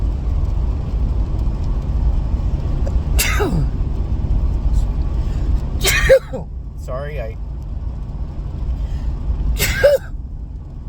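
A person sneezes three times in a row, loud and close, over a constant low engine rumble as if inside a car, with a brief spoken word between sneezes.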